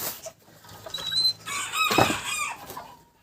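A rooster guarding his hens in a small flock gives close, repeated clucks and short throaty calls, rising to a louder burst in the middle before settling again.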